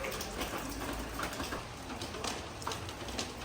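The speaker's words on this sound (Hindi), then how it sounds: "हाँ अम्मी, एकदम से बारिश आई है।" Sudden rain pouring down outside a house, a steady loud hiss of falling drops with pattering on surfaces, and pigeons cooing nearby under the downpour.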